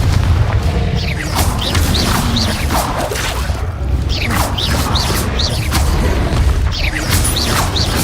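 Confringo fire spells burst again and again in Hogwarts Legacy combat, a loud, continuous stream of booming blasts laced with whooshing swishes and clattering impacts, with no gaps between them.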